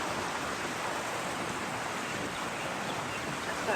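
Mountain stream flowing near Kahuta waterfall in Kashmir, a steady, dense rush of water filling the whole clip at an even level, close and continuous with no voices.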